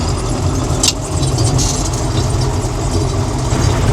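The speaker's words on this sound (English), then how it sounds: "Start the threshing unit up." A 2025 John Deere 3300 combine harvesting oats runs with its threshing unit engaged, giving a loud, steady, close engine drone and mechanical rumble with no break throughout.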